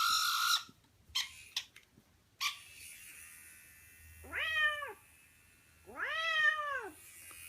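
A talkative Siamese mix cat gives two clear, drawn-out meows a couple of seconds apart, close up in a quiet room, after a few brief knocks and rustles.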